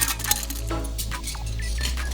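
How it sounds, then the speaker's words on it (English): Computer processors, including a dual-chip Pentium Pro, dropped into a glass beaker, making a few quick metallic clinks and glassy taps over a low steady hum, fairly close and modest in level. "We dropped all the processors into a beaker"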